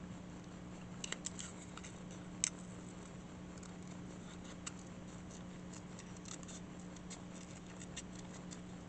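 Scissors cutting around a paper fairy picture for a junk journal: faint, sparse snips and small clicks scattered over a quiet, steady background hum.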